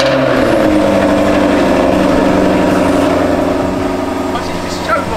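Steady, loud sports car engine drone after start-up, with a low rumble and a throaty hum, running continuously close by without clear pauses.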